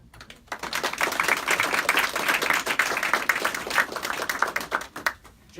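A room full of people at a county budget signing gives a round of applause, with crisp, close individual claps swelling quickly after a brief pause, holding steady, then thinning out near the end.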